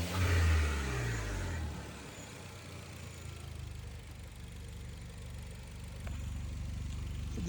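Engine of a 2012 Hyundai Genesis Coupe fitted with an aftermarket blow-off valve, a brief rev at the start settling into a steady low idle rumble, fairly quiet and close.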